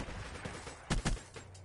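Gunfire in Black Ops 3, a couple of close, punchy shots in quick succession over low game noise, followed by a fainter burst.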